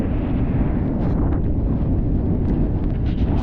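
Strong headwind on a sailing yacht near Cape Horn, storm mainsail up, roars and buffets the microphone in a constant low rumble, with faint hiss and scattered thumps over the gusts.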